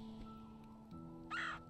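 A crow-like bird caw from the video game Celeste, one short harsh call near the end, heard over a quiet low musical hum and soft game sounds.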